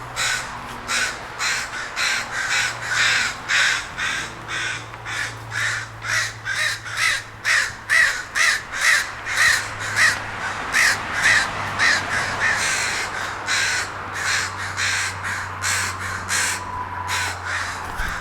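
Many crows caw loudly and repeatedly nearby, a dense rhythmic chorus of harsh calls over a low engine-like hum.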